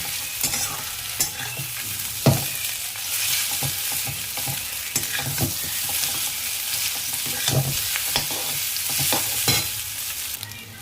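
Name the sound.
stirring chow mein in a frying pan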